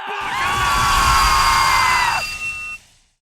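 A Yu-Gi-Oh video game character lets out a long, loud, sustained scream, with voice acting restored by a mod, held for about two seconds before cutting off abruptly.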